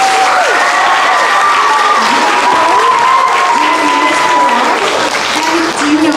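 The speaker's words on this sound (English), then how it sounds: "Can we give Millie and Salvi a big round of applause?" An indoor audience at a wellness center ribbon cutting gives a loud, sustained round of applause, dense clapping filling the room with a few voices calling out over it.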